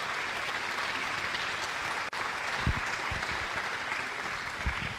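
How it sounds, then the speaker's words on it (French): Audience applause for prize winners at a regional awards ceremony, a steady dense clapping that fills the whole stretch, with a brief dip midway and a few sharper close claps later on. "Merci de les applaudir très chaleureusement, s'il vous plaît."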